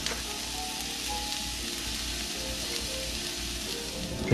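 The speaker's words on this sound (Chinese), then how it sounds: "我再煎多5分钟" Pork belly with preserved mustard greens and a little sugar fries in a dry wok without added oil, sizzling with a steady, close crackle from start to finish.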